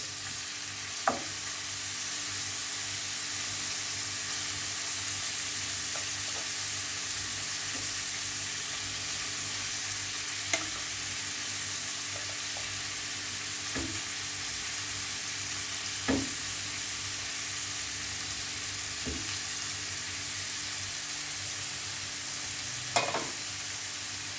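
Cooked rice being stir-fried in a pan with the other ingredients for chicken fried rice: a steady, moderate sizzle runs throughout, with a few sharp clinks of a utensil against the pan scattered through it. There is no talking.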